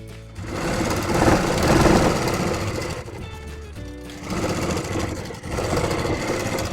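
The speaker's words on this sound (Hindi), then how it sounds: "अब जो हमारा निशान था उसी पे से हम सिलाई चला रहे हैं" A sewing machine runs in steady stitching bursts along a marked line while sewing the collar of a stand-collar kurti, close and loud, pausing briefly around the third and fifth seconds.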